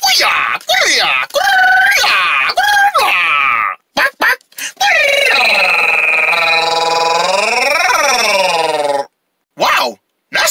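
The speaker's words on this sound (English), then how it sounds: "Nice karate scream." A cartoon character lets out a long, wavering karate scream that rises and falls for several seconds, loud and close, with brief cartoon voices and shouts before it.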